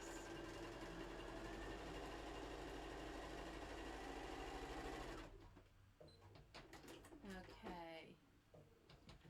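A sewing machine runs steadily for about five seconds, stitching a seam in clutch bag fabric, loud and close, then stops, followed by quieter handling noises and a voice speaking.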